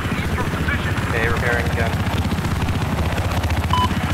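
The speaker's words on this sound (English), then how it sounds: "I have eyes on a hostile helicopter." Helicopter rotor thumping steadily and loudly in Battlefield 4 multiplayer, with a player talking over the constant pulsing drone.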